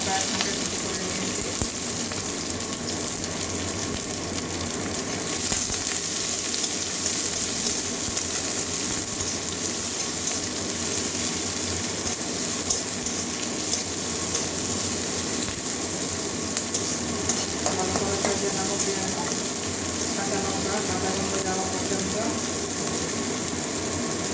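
Chopped onion, green chilli and garlic fry in a pan with a loud, continuous sizzle that lasts throughout, close and steady.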